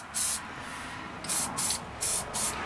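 Copper coat gasket sealant sprays onto Harley Davidson Ironhead cylinder base gaskets in short hissing bursts, about five quick sprays close to the microphone with quiet pauses between.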